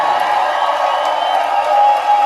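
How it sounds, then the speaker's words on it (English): A crowd cheering and clapping in a steady roar, loud and sustained throughout with no gaps, likely from a live audience at an event. "I'm going to give each and every single one of you a huge round of applause"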